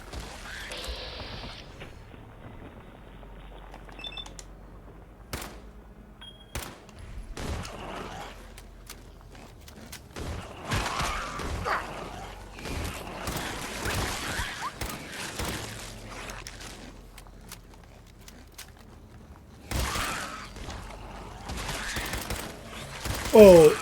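Gunfire in the Fallout 4 video game comes in scattered bursts and sharp single shots over a quiet background, with creaks and footsteps between volleys and a loud burst near the end; a voice is not heard over it.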